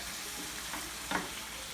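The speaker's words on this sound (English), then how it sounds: "Then you dump these tomatoes right in there. Stir it up real quick" Tomatoes dumped into hot garlic and oil and stirred with a wooden spoon, a soft steady sizzle with a brief louder splash and scrape, heard alone.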